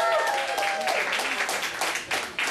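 Audience applause breaks out for the Love Fairies at a kitsch cabaret show, dense clapping with a faint musical tone at the start, fairly loud and continuous throughout.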